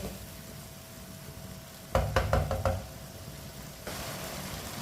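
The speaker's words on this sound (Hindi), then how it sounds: "अच्छी तरह इसे मिक्स कर लेंगे।" A potato and capsicum curry is stirred in a pan, with a soft steady sizzle broken by a quick burst of scraping, clattering strokes against the metal midway through.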